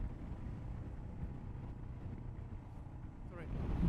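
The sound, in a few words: Royal Enfield Himalayan motorcycle riding on the highway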